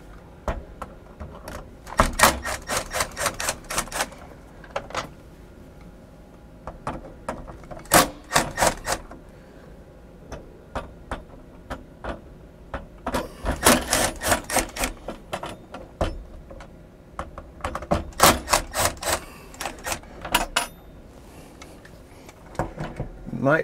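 Phillips screwdriver removing screws from the interior trim of a MaxxFan Deluxe roof vent in a travel trailer, with clusters of sharp clicking and ratcheting bursts separated by pauses, close and fairly loud.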